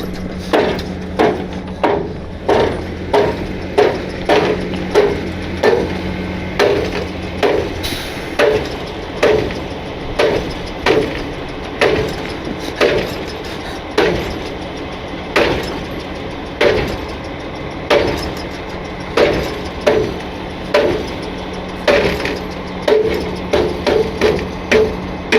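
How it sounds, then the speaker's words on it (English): Heavy hammer blows on a steel reach tube of logging equipment during a field repair, ringing loud metallic strikes at a fairly regular rhythm over roughly twenty-five seconds, with an engine idling low underneath. "Got to hammer it again right there"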